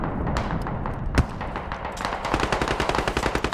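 Rapid gunfire in the video game Squad, dense overlapping shots with one heavy close thump, then a steady run of automatic bursts pounding through a continuous battle din.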